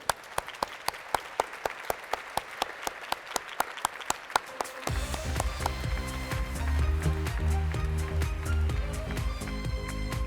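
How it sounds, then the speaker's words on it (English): At an apprenticeship award ceremony, distinct single claps ring out in a steady beat for a few seconds, then a full, loud round of applause takes over, joined by music. "Give yourselves a massive round of applause"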